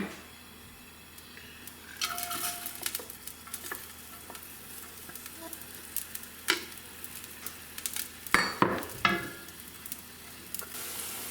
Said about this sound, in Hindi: अब हम डालेंगे ऑनियन।